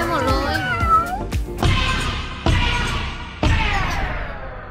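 A street cat in Istanbul meows close by, a series of rising and falling cries, with people talking over the traffic of the street.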